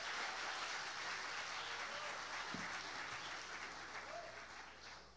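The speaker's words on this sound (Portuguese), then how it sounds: "Vamos aplaudir o Senhor pela vida do irmão Rômulo." A church congregation applauds a teenage member, dense sustained clapping that fills the room and fades slightly toward the end.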